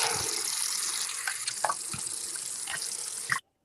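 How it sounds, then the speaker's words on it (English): Tap water running steadily into a sink during washing, a loud continuous splashing rush with small clatters, cutting off abruptly near the end. "Yes, I'm just washing my sink."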